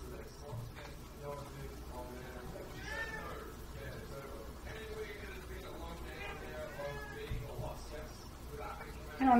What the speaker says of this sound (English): Just run around meowing everywhere.